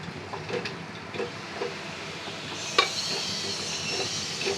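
Mutton simmering in a pot for tehari gives a steady, moderately loud hiss, with occasional soft clicks and one sharper knock near the middle; no voices.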